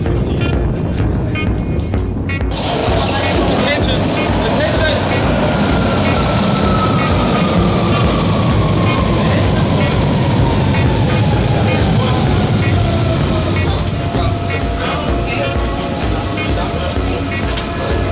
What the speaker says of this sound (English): Sind hier in der Metro.